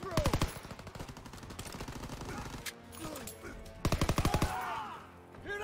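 Rapid machine gun fire in the Call of Duty WWII D-Day campaign, loud bursts of regular shots opening and again near the end, with battle noise and shouting voices between.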